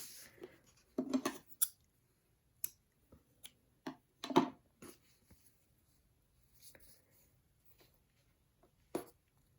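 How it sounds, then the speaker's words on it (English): Scissors snip yarn fuzz off a crochet washcloth, giving several quiet close clicks and snips at irregular intervals with soft handling noise between them. "I'm going to go ahead and cut that off now."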